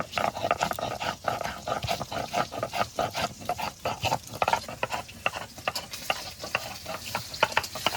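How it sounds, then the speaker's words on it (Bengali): Katla fish pieces fry in hot oil, a close, busy crackle of sizzling with irregular spatter pops and the scrape of a spatula turning them, running steadily throughout without any speech. "মাছগুলো ভাজা হয়ে গেছে"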